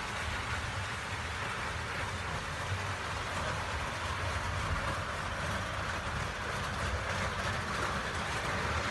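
A steady, continuous rolling rumble with a faint clickety-clack of model train wheels on track, constant in level throughout with no voices.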